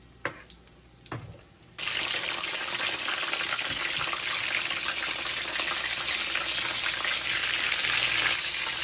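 Venison sausage gravy with milk heating in a pan as it is stirred: a few soft knocks, then a loud, steady sizzling hiss that holds without a break to the end.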